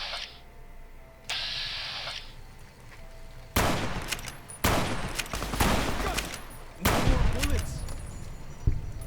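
Gunfire in Fallout: New Vegas, several loud bursts of shots with short pauses between them, preceded by softer game sounds.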